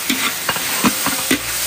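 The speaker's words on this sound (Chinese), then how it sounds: "青椒下锅，" Green peppers stir-fried in a wok with scallion, ginger, soy sauce and oyster sauce, giving several sharp scraping stir strokes over a steady sizzle, close and fairly loud.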